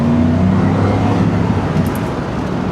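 Ford Mustang Cobra with a freshly installed clutch, flood-damaged and showing 11k miles, on its first drive. A steady, loud engine drone and road rumble hold throughout, with no clear gear-change break.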